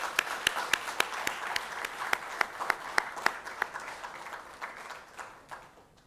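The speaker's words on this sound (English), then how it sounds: "May I please invite you to please join your seats with a round of applause from the audience," Scattered claps from an audience at an anniversary celebration, a sparse, distinct rhythm of individual hand claps that gradually thins and fades, fairly quiet and slightly distant.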